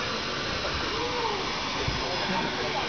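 Steam hisses from Nickel Plate 765, a steam locomotive at a railroad open house, as a steady, loud, unbroken rush of noise that stays level for the full three seconds.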